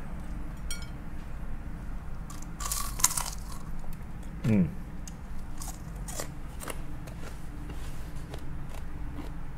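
Someone bites into crunchy fried crab tempura, producing a few close, crisp crunches and some chewing, with a brief appreciative murmur and low background noise.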